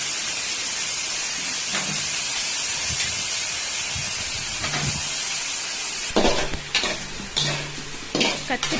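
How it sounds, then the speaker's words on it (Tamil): Eggplant sautés in a pan with onion, garlic and curry leaves, giving a steady close sizzle with scraping and stirring strokes that grow busier toward the end. "கத்திரிக்காவை நல்லா வதக்கணும்."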